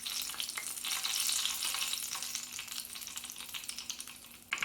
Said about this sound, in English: Make sure you fry every side like I'm doing right here. Make sure they're frying.